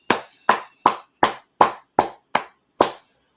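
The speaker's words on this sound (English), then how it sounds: "clap it up" Eight sharp, distinct hand claps at a steady, deliberate pace, loud and close, each ringing out briefly into silence, sounding like one person or a small tight group clapping in unison at a street gathering.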